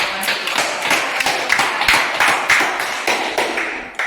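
Students in a classroom clapping together, a loud, fairly rhythmic run of hand claps lasting several seconds with no talk.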